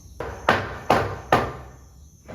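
Three sharp hammer blows land at an even pace while building a wooden workbench, each strike loud and distinct with a short ringing decay in a quiet room.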